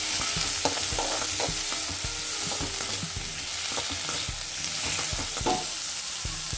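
Onion, garlic, ginger and chillies sautéing in oil for tomato mint chutney, a dense continuous sizzle with frequent quick scrapes and taps of a spatula against the pan.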